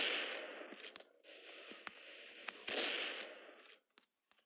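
Weapon fire from the mobile shooter game Elite Strike crackles in sustained bursts with sharp single pops, fairly quiet, ending with a few scattered shots.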